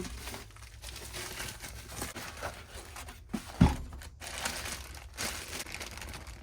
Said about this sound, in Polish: Otwieramy paczkę z Chin.